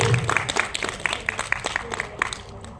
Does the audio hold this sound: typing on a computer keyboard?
no